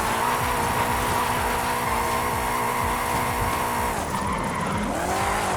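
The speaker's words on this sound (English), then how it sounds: "That's how you drift, right?" A car drifting at a drift club in Mexico, tires squealing in a long, loud, continuous skid over a droning engine, with the pitch bending as the slide changes near the end.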